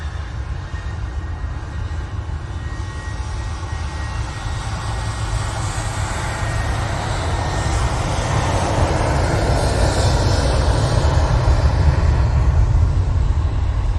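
A TUI airliner takes off from Manchester Airport, a steady, loud broadband jet roar with strong low rumble that builds slightly over the whole stretch, continuous and without talk.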